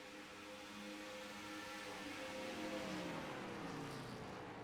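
Race cars in a racing video game at Auto Club Speedway downshifting into a corner, distant engine drone with revs audibly dropping, faint and steady, no talking.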